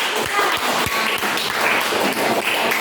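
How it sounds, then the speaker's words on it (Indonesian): A small group of students in a classroom lesson claps together, a brief burst of applause with a few distinct claps standing out, close and fairly loud. "kasih tepuk tangan"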